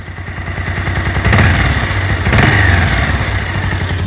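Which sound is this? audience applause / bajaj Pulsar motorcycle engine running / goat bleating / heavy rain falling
bajaj Pulsar motorcycle engine running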